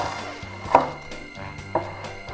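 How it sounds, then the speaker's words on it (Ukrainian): A knife chopping an onion on a cutting board, a few sharp, close knocks spaced apart over quiet kitchen background. "Починаємо з цибулі. Цибулю різати мілко не обов'язково."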